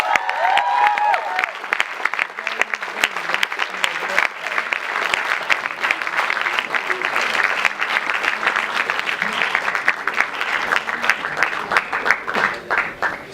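A crowd at a Model United Nations closing ceremony claps steadily for over ten seconds, a dense rattling applause that stays fairly even before thinning slightly near the end.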